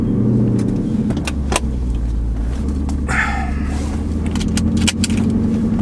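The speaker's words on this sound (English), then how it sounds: "We got a new exhaust. It's the AWE Touring exhaust." A Jeep engine fitted with an AWE Touring exhaust idles with a loud, steady low rumble close by, accompanied by a brief jangle of keys and faint interior clicks.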